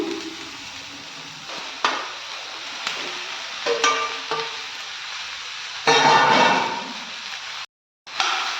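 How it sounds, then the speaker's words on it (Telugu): Okra drops into a hot pan for tomato curry and fries with a close sizzle, broken by bursts of stirring and scraping and a louder surge near the end. "ఇప్పుడు బెండకాయలు వేసుకుందాం."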